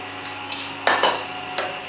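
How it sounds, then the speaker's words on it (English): A whisk working khandvi batter in a metal pot on the cooker, a few soft clinks and scrapes against the pot, close and brief. "I'm using first whisk, so you're gonna obtain smooth texture. We're gonna whisk it and mix it all together."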